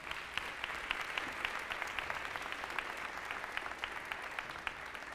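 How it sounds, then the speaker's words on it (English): An audience at a school district's annual State of Our Schools event gives sustained applause, an even wash of many hands clapping with a few sharper individual claps standing out, heard from a distance. "Give them a big round of applause."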